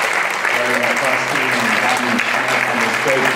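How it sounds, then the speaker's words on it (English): An audience at a film screening gives a steady, dense round of applause, loud and sustained throughout, with voices audible beneath the clapping. "How about a round of applause for McCluskie and having Schmitt on this great project?"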